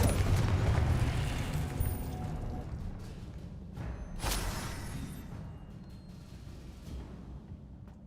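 A Confringo spell blast in the Hogwarts Legacy video game, a broad rumbling boom that swells at the start and again midway, then decays into a lingering low roar with no voices.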